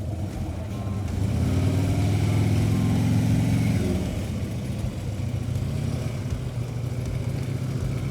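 A motorcycle crawling through a slow-ride practice exercise, its engine note rising into a steady low drone that swells in the middle and then settles back to a quieter idle-like rumble.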